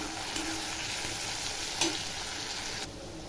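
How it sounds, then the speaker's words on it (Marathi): Green chili paste sautéed with curry leaves in a pan, a continuous close sizzle with light stirring, steady and alone, fading slightly near the end. "हिरव्या मिरचीचं वाटण पण बघा छान असं परतून घ्यायचं"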